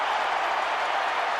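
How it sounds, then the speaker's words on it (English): A boxing arena crowd rises to a standing ovation for Manny Pacquiao against Joshua Clottey, a brief, even wash of applause and cheering heard at a distance. "gets a standing ovation"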